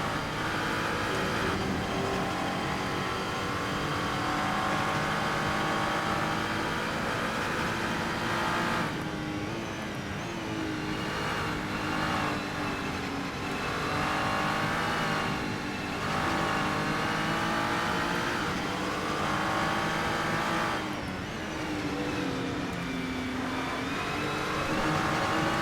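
A GT3 race car engine at Spa in the Assetto Corsa racing game, loud and close, revving through repeated gear changes with rising and falling pitch and other cars nearby.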